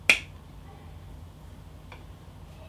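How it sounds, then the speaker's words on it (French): A single sharp finger snap rings out near the start, crisp and close, followed by a near-silent room with only a faint low hum and a soft tick later on. "en un claquement de doigts"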